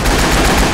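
Loud, close machine gun fire in the video game Left 4 Dead 2, a dense rattling burst that fills the whole short moment with no talking.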